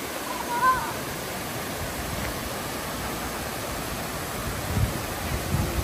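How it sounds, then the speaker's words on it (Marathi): Water flows continuously in a park pond, a steady broadband rushing wash like a small fountain or outlet, heard outdoors with faint bumps of activity and no clear speech. "पाणी सतत वाहत असतं"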